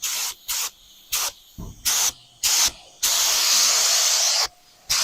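A paint spray gun laying down House of Colors primer sealer on a 9-inch rear end housing hisses in short bursts, then one long sustained pass and a final burst, loud and close with quiet gaps between.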